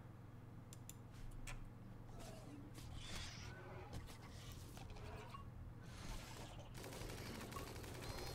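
Gunfire in a RimWorld battle: scattered, fairly faint shots and short bursts pop irregularly over a low steady hum, growing denser toward the end.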